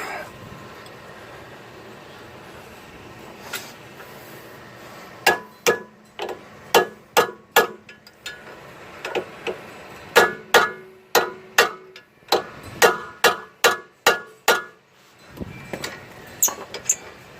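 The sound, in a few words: hammering a wheel stud into place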